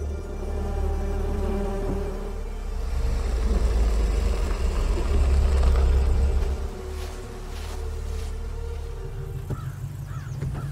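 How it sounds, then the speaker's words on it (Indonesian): Bees swarm around beehives in an action film scene, a continuous low droning buzz layered under rumbling ambience that swells in the middle and carries on throughout, with some faint higher sounds near the end. "di saat Clay sedang merawat lebah-lebahnya"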